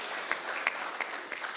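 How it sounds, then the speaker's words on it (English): Steady applause from a summit audience for a panel, heard at moderate distance, with a few sharper individual claps standing out at irregular intervals. "please can you give the panel a round of applause"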